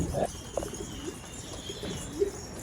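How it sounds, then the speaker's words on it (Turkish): A pigeon coos a few times at moderate distance, with a brief flutter of wings, against steady low background noise. "İçinde bir tane güvercin var."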